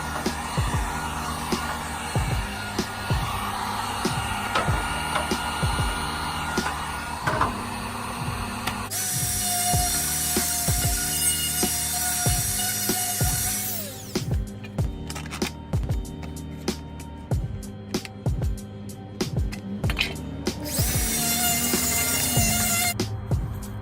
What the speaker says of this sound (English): We're gonna start the heating of the plastic.